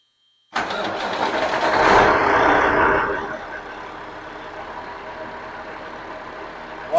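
A Cat 3406E diesel engine cranks and fires with a loud, rough burst, then settles into a steady, lower idle rumble. Another sharp sound comes right at the end.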